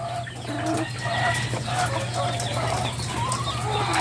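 Caged laying hens cluck and murmur close by in a steady, busy chorus over a constant low hum, with a person speaking.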